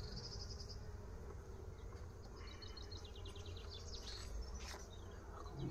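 Bees buzzing at an open hive in an apiary, a steady outdoor hum of insects with brief higher whines of bees flying close past, continuous and moderately faint throughout.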